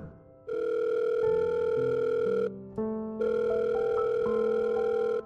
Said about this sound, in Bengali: ফোনটা বেজে গেল। তিতির ধরল না।